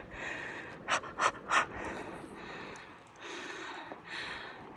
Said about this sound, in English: these rock steps go up here on the back side, which is why I'm panting